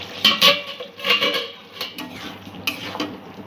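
A lid goes onto a cooking pot of potato and okra curry, making a few close metallic clinks and scrapes with soft rattles between them, no voices.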